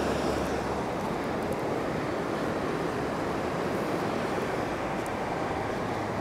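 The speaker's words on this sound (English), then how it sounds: "The river right next to you." Steady broadband rush of a river flowing right beside a road, loud and continuous with a windy edge, no voices over it.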